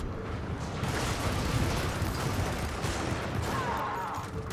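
Sustained, dense gunfire in the co-op shooter Helldivers, a continuous loud roar of shots and blasts filling the whole stretch without pause.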